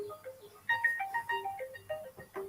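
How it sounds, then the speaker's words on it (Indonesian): A mobile phone ringtone plays a quiet melodic tune of short bright notes in a repeating pattern, heard at low level in an online class meeting. "siapa yang telepon lagi nih?"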